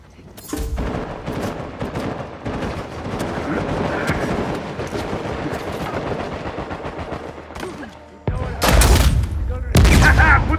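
Rapid gunfire and explosive blasts from a shooting video game, dense and loud throughout, with heavier booming bursts near the end.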